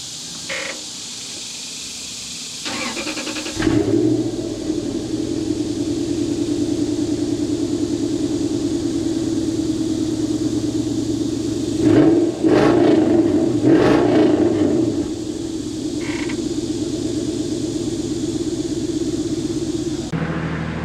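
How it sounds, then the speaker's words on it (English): A car engine with no catalytic converters and factory exhaust cranks and fires up, settling into a steady low idle rumble, with a couple of brief rises in revs partway through. "we're gonna do a startup with the no cats and factory exhaust"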